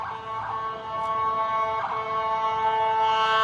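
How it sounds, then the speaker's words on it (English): An ambulance siren passes along a downtown street, its steady wailing tone sustained and fairly loud throughout, rising slightly as it goes by. "Hold your ears, ambulance going by."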